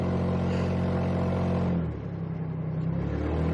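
A Ford Mustang running on a newly installed transmission gives a steady engine drone with a low rumble while driving, easing slightly in pitch partway through, with no talk over it.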